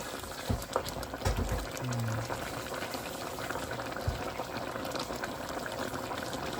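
Bicol Express, a pork and chili coconut-milk stew, bubbles and simmers steadily in a pot, a continuous close gurgling with a few louder pops and clinks.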